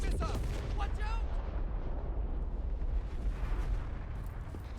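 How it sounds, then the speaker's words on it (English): Missile strikes in the video game Outpost Infinity Siege set off heavy, rumbling explosions that roll continuously and fade toward the end, with a voice talking over the blasts. "Incoming missile! Watch out!"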